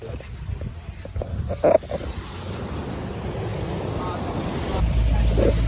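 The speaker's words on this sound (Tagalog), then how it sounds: "Nagbabangka na kami papunta sa isla." A small boat's low engine rumble and splashing waves carry on steadily on the way to an island, with wind hitting the microphone and a brief knock partway through.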